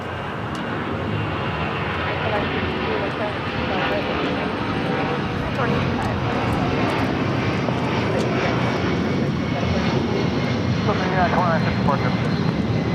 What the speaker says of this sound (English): There we have a Delta 757 now rolling down.